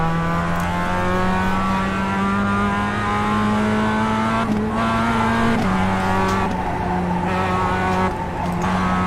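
An MX-5 race car engine in the iRacing video game drones steadily and loudly throughout, pitch rising gradually with abrupt drops at gear shifts and hints of tire squeal.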